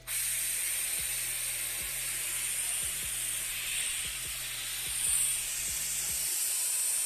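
An air compressor drives an oil extractor pulling engine oil from a Mercedes-Benz C400, a steady bright hiss running throughout with regular faint mechanical ticks, fairly quiet and alone.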